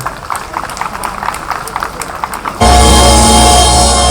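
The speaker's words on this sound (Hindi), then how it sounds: "मंत्री जी को हम तालियों के साथ विदा करेंगे।" Audience applause to send off a minister at a live comedy show, scattered clapping at first that swells into a loud, dense, sustained ovation in the second half.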